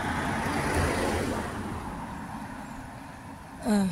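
A single car passes by on a quiet country road during a bike tour, a broad rushing roar that starts loud and close, then fades steadily as it moves away, with no talking.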